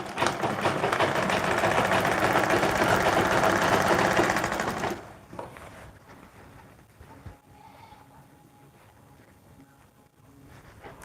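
A sewing machine stitches fabric for a dress, a loud, fast, continuous whirring rattle for about five seconds that then stops, leaving faint handling noises and a quiet room.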